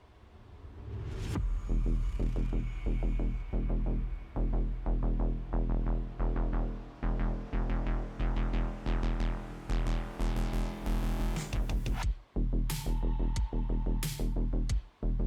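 A coolant pump runs in PC Building Simulator, a loud low throbbing hum with rhythmic pulsing that speeds up, then cuts out and restarts briefly near the end.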